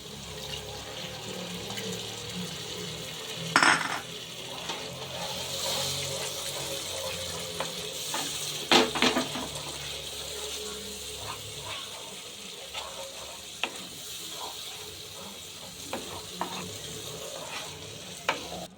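Masala paste for Kerala fish pollichathu cooking in oil as coconut milk goes in, a steady sizzle with a splash and pouring and occasional stirring clinks.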